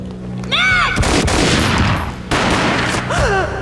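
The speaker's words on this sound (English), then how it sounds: "A gunshot boomed and she fell down in slow motion." Gunfire from the Max Payne video game: two loud, sharp booms with ringing tails, separated by a couple of seconds, between whooshing, sweeping tonal effects.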